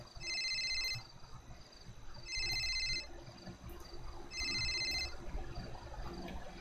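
A phone rings in the video game GTA 5 with three distinct bursts of an electronic ringtone, each about a second long with short gaps between them, over a quiet background.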